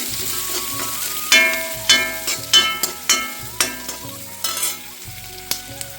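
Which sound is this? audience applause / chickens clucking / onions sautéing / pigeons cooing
onions sautéing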